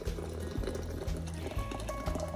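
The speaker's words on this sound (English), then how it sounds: "now I'm going to put the leaves in there and I'm going to pour boiling water on it." Boiling water poured over raspberry leaves for tea, a soft, close liquid pouring and gurgling with small rhythmic splashes, low in level.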